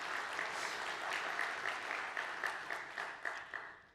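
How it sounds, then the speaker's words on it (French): Applause from an audience at a talk on steganography, steady and moderately loud throughout, with a few sharper claps standing out near the end. "On s'applaudit."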